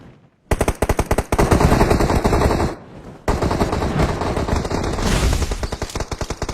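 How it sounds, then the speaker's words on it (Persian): Video game gunfire: rapid bursts of automatic fire rattle loudly and continuously, pausing briefly before resuming in long sustained volleys. "ببین اینجا صدا تیر بود."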